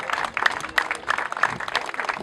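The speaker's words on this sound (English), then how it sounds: "So I think I'd like a big round of applause for them." Scattered audience applause at a community event, a patchy rippling clatter of hand claps from a modest crowd, moderately near and steady for a couple of seconds with no speech over it.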